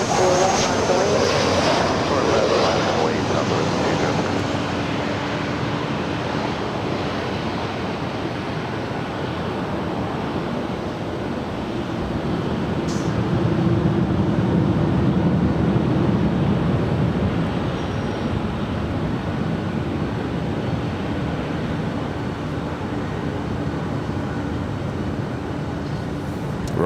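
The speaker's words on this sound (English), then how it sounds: "Rolling down 24 left to Southwest Airlines flight 2361 heading to Austin, Texas. That's 737-800." A Southwest Airlines Boeing 737-800 taking off on runway 24 left at LAX, a steady broad jet roar swelling midway and holding for the whole stretch, heard from a distance with a voice talking over it.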